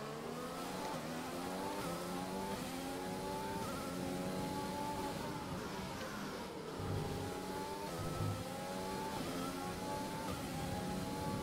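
Formula 1 car engines in the F1 2020 video game, racing in Canada, whine and rev continuously in dense traffic, a steady loud wall of overlapping motor drones with shifting pitch and no pauses.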